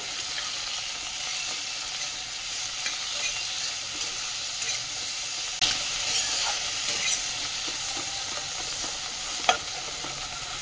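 Five or six cashews stirred and frying in a pan for a vegetarian matar paneer dish, giving a steady close sizzle with light scraping stirs and a sharper clack near the end, no voices.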